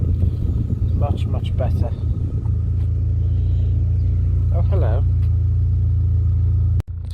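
A Vauxhall Corsa B engine idles while warming up, a steady low rumble running throughout with brief speech over it near the start and middle.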